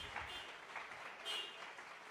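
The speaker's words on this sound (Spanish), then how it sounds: "Denle un aplauso al Señor." Church congregation applauding, a continuous broad patter of clapping filling the space at moderate level without pauses.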